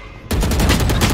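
Gunfire from the video game Valorant breaks in after a brief quiet moment as a loud, rapid burst of shots, dense and close.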